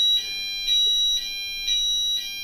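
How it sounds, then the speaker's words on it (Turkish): A fire alarm sounds in evenly spaced high electronic beeps, about five pulses at roughly half-second intervals, loud and close with no voices. "Yangın alarmı çalıyor şu anda."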